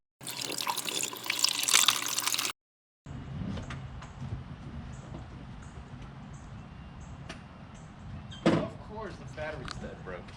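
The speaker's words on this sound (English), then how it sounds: "let's go ahead, fill it up with water, and then try to start it," Water pours steadily into the engine of a cheap, cammed Mazda Miata, a continuous close splashing rush that stops briefly, then resumes with a sharp knock near the end.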